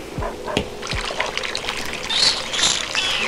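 Water trickles and pours in Toca Life World, a light, close liquid splashing that runs steadily for a few seconds alongside small clicks.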